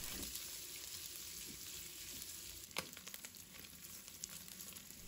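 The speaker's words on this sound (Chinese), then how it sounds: "加入少量的食用油，油热之后，把五花肉倒在锅中，开中小火慢慢的翻炒" Pork belly stir-frying in a little oil in a wok over medium-low heat, heard as a steady close sizzle with occasional scraping stirs, no talking.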